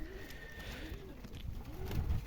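Dwarf pigeons kept for sale coo softly in a repeated rolling rhythm close by, with a low background hum and no talking.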